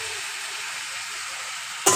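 Pre-boiled pasta is added to a hot pan with a little oil. A loud, steady sizzling hiss fills the whole stretch and flares into a brighter burst at the very end, with no voices.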